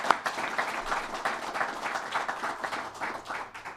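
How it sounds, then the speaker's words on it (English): Steady audience applause fills a grand opening event for a health center, a continuous wash of many hands clapping at moderate distance with no talk over it. "you deserve a round of applause for that"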